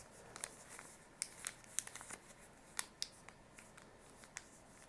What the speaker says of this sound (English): I'm going to take this paper, I'm going to fold it up